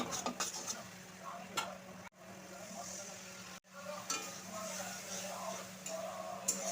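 Mustard paste masala with water being stirred and fried in a pan for Bengali shorshe katla, a steady scraping stir over a low sizzle, fairly close, with two brief breaks in the sound.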